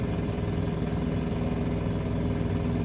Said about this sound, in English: I think I'm hearing some ticking valves.